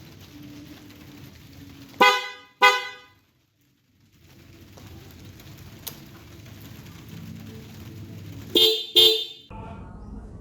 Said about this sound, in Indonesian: Hari ini saya lagi memperbaiki klakson motor saya, New Mega Pro.